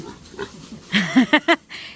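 A pig at a provincial fiesta in the Philippines lets out a run of close, loud grunts and squeals, four or five quick bursts in a row.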